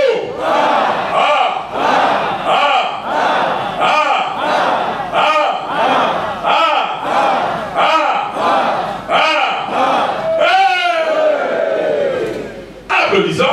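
A crowd at a religious gathering at Mont Ararat cheers and shouts in a loud, steady rhythm of pulsing bursts, with a drawn-out rising and falling cry near the end.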